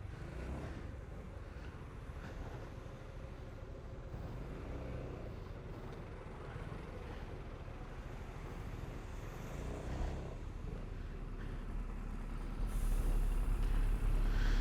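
Congested traffic while riding a 125 cc motorcycle on a rainy day: a constant low rumble of engines and road noise, fairly quiet and unbroken, swelling slightly near the end, with no one speaking.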